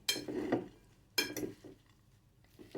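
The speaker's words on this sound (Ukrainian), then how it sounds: "і тепер все це ретельно перемішуємо" Warm salad with mustard being stirred in a serving dish, two clusters of scraping and clinking utensil strokes separated by quieter pauses, close and fairly soft.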